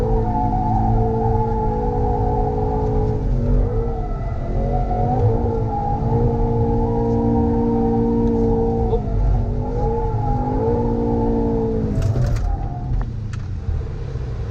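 A Mercedes-AMG GT 63 S 4-Door drifting in drift mode, its engine holding a loud, steady high-revving note with pitch dips as throttle shifts, tires shredding beneath, close and continuous throughout.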